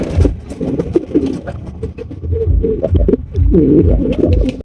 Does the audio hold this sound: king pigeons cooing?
yes